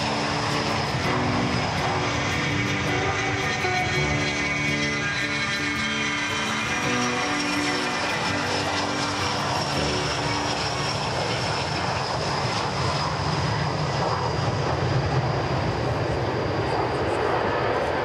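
Aircraft of the Royal Spanish Air Force aerobatic team fly at the Waddington International Air Show, a loud, sustained propeller drone whose pitch shifts as the planes pass, with no talking.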